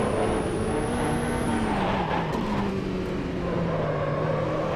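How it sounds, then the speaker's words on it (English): A Nissan R89C race car engine at the Nürburgring in Automobilista 2 drones steadily and loud, holding a high sustained pitch that dips slightly as the car lifts and settles, with no talk. "This is the Nissan R89C at the Nürburgring Vidal 2020"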